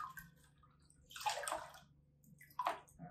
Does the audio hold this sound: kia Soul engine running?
no